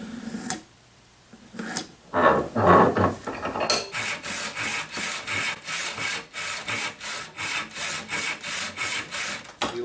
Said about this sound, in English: we're going to go ahead and square it up and then cut off a 4-inch piece